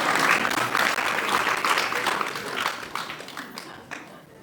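An audience claps steadily at a temple festival talk, a dense, loud wash of applause that slowly thins and fades toward the end.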